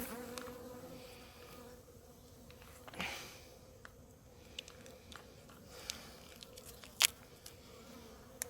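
Honeybees hum around an opened beehive, a low continuous drone close to the microphone with occasional louder passes and small clicks and taps of hive work.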